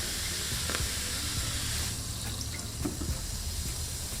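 Diet soda water poured over ice into a kiwi mocktail, a steady close fizzing, trickling pour with faint clinks and bubbles, no talking.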